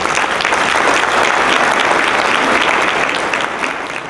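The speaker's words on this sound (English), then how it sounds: "Can we have a big round of applause for Lisa, please?" An audience at a live talk gives a big round of applause: dense, loud, sustained clapping that holds steady for several seconds, then begins to thin and fade toward the end.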